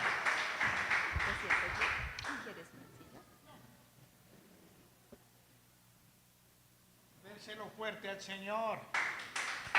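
A church congregation at a dedication service claps in a loud burst for its pastor, then fades as someone speaks, and voices swell again later.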